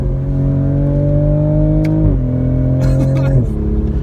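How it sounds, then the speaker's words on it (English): A 2020 Toyota Supra's engine hums loudly inside the cabin, its pitch stepping abruptly during paddle-shift downshifts, with a brief click and a voice speaking. "Downshift here for you."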